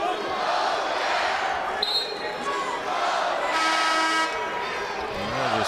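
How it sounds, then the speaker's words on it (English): A pro-Ohio home crowd at a Ball State vs Ohio college basketball game roars through its rhythmic OU, oh yeah chant, a loud sustained arena swell with sneaker squeaks and a commentator talking over it. "this pro green and white Ohio crowd letting loose with the famous OU, oh yeah, chant"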